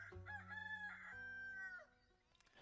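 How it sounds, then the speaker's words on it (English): A rooster crows in a tavern-management video game: a single clear, drawn-out cock-a-doodle-doo with rising and falling tonal notes, fairly close and alone, followed by a brief faint clatter. "May the roosters go cock-a-doodle-doo."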